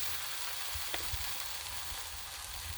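Bologna slices frying on a flat griddle, alongside eggs and grilled cheese being made, give a steady, quiet sizzle with a few soft scrapes or taps.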